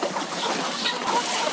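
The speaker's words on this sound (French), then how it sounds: "Pintades, poulets, canards, il élève 2000 volailles" Poultry on a farm with guinea fowl, chickens and ducks, a busy mix of clucking and bird calls over constant outdoor background noise.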